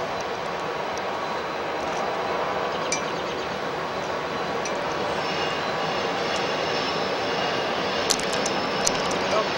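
A Norfolk Southern freight train rolls past west of Altoona with a covered hopper car, a steady, fairly loud broadband rumble and wheel noise that holds throughout, with a few faint high metallic squeals near the end.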